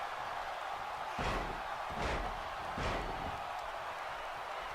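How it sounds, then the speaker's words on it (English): Three heavy body-slam thuds hit a wrestling ring mat about a second apart as Sheamus drives Scott Dawson down in a WWE 2K tag-team match, each impact loud and boomy over a steady crowd roar. "Sheamus slamming the head of Scott Dawson down onto the mat."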